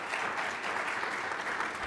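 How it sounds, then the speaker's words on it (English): Steady applause from a conference audience clapping for event sponsors at a Portland gathering, a dense even patter filling the room without pause. "let's make some real quick clap for our sponsors."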